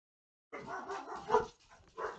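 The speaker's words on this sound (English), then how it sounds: "Dogs went off." Dogs barking nearby in a quick burst of a few loud, yappy barks that start suddenly after a moment of silence.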